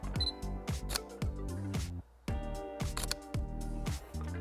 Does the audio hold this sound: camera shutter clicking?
yes